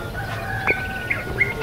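Roosters crow at dawn alongside other birds: a few short, high calls stand out over a steady low rural background.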